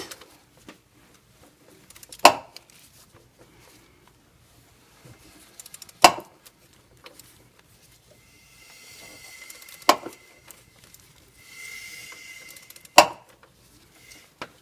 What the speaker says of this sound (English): That noise is me hitting the engine mount with the ratchet when I come back up.